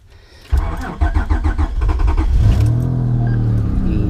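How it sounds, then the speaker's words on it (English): A turbocharged Honda J35A7 V6 running an E85 tune cranks briefly and fires up close by, then settles into a loud, rumbling idle with a rising throb. "Let me show you what a HalferLand E85 tune startup sounds like."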